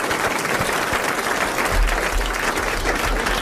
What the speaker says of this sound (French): vous applaudissez Monsieur Lenné de Dijon.